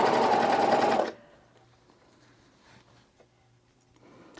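A serger whirs briefly and loudly as it sews a T-shirt seam, then cuts off abruptly, leaving a near-silent stretch with faint soft handling sounds.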